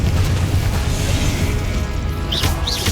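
A Confringo spell explosion in Hogwarts Legacy, a loud, dense rumbling boom that fills the moment with heavy low-end roar, followed by a couple of whooshing magical swells near the end.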